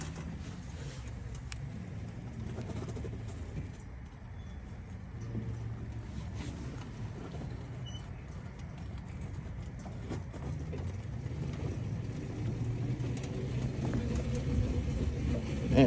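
An E Ride Pro SS electric buggy drives with its throttle limited, giving a low, steady rumble of motor and tire noise that stays fairly quiet and rises slightly toward the end.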